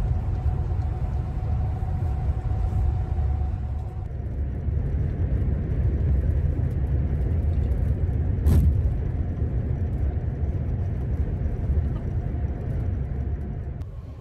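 A tour bus rolls along a snowy winter road in Hokkaido, a steady low engine and road rumble from inside the cabin with a brief sharp knock partway through, and no talking.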